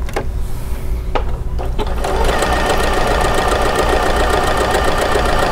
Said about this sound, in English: it's going to give us a very precise straight stitch